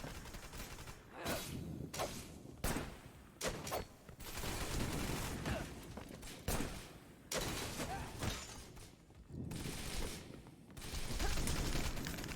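Teammates firing guns nonstop in the video game Wanted: Dead: dense, repeated bursts of loud gunfire with short gaps, shattering impacts and mechanical clatter.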